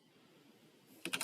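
A few quick keystrokes on a computer keyboard while a command is entered at a terminal, close and fairly quiet, arriving as a short burst of clicks after near-silence.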